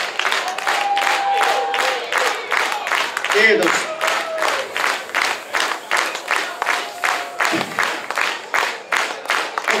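Party crowd at a Nastola rautalanka music event claps loudly and steadily in rhythmic unison, with someone briefly speaking over the applause.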